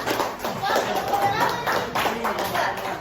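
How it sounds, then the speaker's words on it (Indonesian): Hands clapping from an audience in a classroom-style group session, uneven bursts of claps with some tapping and murmured voices mixed in. "Oke, tepuk tangan dulu semuanya."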